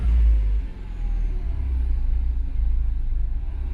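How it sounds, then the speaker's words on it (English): A car engine idles with a low, steady rumble that dips briefly and wavers as it stumbles slightly, close and continuous throughout without talk. "Right now the car is stumbling a little bit."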